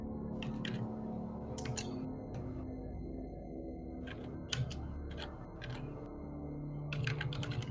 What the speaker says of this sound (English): I can't really hear because when Fails is typing, it's you get like kind of drowned out